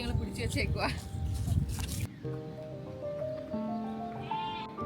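Sheep marked with coloured paint bleat along a rural path in Wales, several calls rising over people talking nearby, with footsteps on the track.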